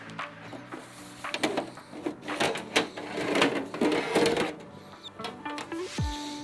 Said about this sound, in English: we can go ahead and take this case off here